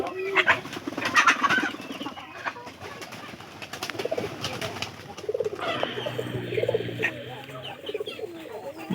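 Pigeons coo in a farmyard while being fed corn alongside chickens, with low repeated cooing notes and bird calls mixed with light background activity and occasional movement noise.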